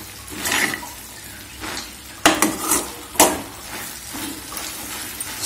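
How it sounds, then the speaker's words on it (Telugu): Cabbage and chana dal curry is stirred in a pan with a spoon, giving scraping and clinking strokes against the metal, with a few sharper knocks midway and a faint sizzle underneath. "దీంట్లో ఇప్పుడు మనం కొత్తిమీర యాడ్ చేసుకుందాం కలిపేసుకొని స్టవ్ ఆఫ్ చేసుకుందాం"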